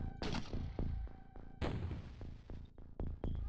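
Long-distance artillery fire in a video game lands as a string of sharp booming blasts, roughly four or five reports in quick succession, each leaving a brief rumbling tail.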